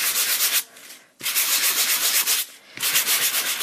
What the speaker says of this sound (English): I am just going around the edges with a sanding block